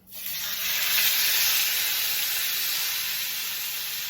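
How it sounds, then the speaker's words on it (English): Shrimp hits a pan of melted butter with a sudden burst of loud, steady sizzling that holds strong and close, a bright hiss with no talk over it. "My shrimp is going to be cooking. I already put me the butter in now and let it melt."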